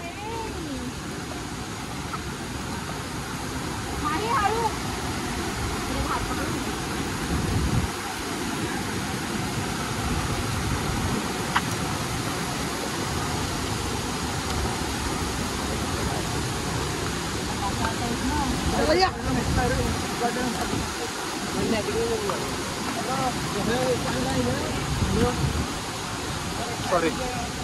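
Kondi waterfall near Nagaon, Alibag, gives a steady, continuous rush of falling water that stays even throughout, with faint voices now and then.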